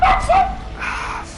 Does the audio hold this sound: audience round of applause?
no